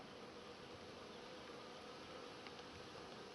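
A honeybee swarm hums steadily inside a bait trap mounted about three meters up, a dense, even buzz that holds without pause throughout.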